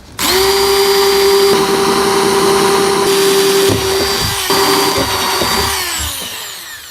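A power drill bores holes in a desk lamp mount, a loud close whine that starts abruptly, holds steady with slight dips as the bit bites and grinds, then winds down at the end.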